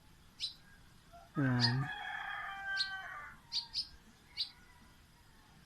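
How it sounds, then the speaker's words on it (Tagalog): Birds chirping outdoors on a sunny day, with short sharp chirps repeating at intervals and a rooster crowing once nearby, over quiet background. "ganda ng huni ng bird, no?"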